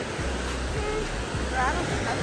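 Ocean waves roll in with a steady, full wash of surf mixed with wind noise on the microphone, and faint voices sit in the background.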